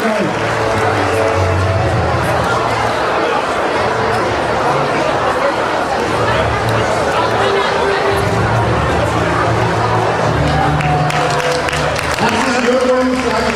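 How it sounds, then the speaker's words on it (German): Crowd applause for a finisher at the Rheinhöhenlauf half marathon in Vettelschoß, a loud outdoor race setting where clapping blends with chatter and an announcer talking over a busy crowd. "nochmal Applaus für die hervorragende Zeit"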